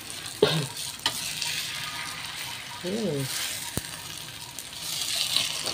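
Breakfast food fries in a seasoned pan with pepper, a steady sizzle running throughout with a couple of sharp clanks and a brief scraping flip midway, while a voice speaks briefly over it.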